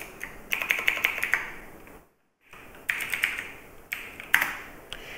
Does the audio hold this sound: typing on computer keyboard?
yes